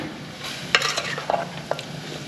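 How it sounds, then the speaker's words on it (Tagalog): Salted food frying in a pan is stirred: a steady sizzle runs throughout while a spoon scrapes and clicks against the pan in a few sharp, close strokes. "Tapos ating haluin"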